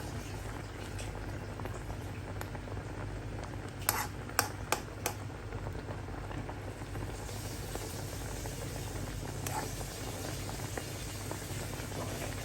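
Ginataang tambakol, tuna in coconut milk with vegetables, simmering in a pot: a steady low bubbling bed throughout, with a few brief clinks of a utensil near the middle.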